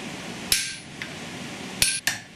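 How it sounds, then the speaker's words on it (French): A metal petal is hammered at a forge, four sharp, ringing metallic strikes spaced irregularly, each decaying quickly into a quiet background. "Le pétale est ensuite martelé pour lui donner sa forme définitive."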